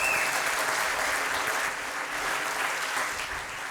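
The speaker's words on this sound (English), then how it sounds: "One more round of applause for Dr. Jahansouz." A round of audience applause at a hope-themed event honoring a doctor, steady continuous clapping from a sizable crowd, moderately loud and even, slowly easing toward the end.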